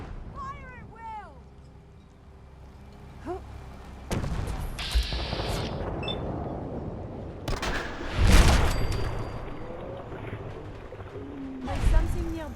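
Gunfire in the video game Fallout 4 Far Harbor, with several bursts and booming shots amid fighting noise and shouted game voices, the firing irregular and moderately loud.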